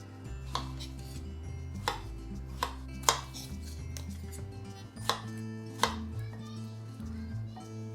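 A knife chops farmer's market strawberries on a cutting board in a home kitchen, with a series of sharp, irregularly spaced taps over a steady low background hum, close and alone without talking.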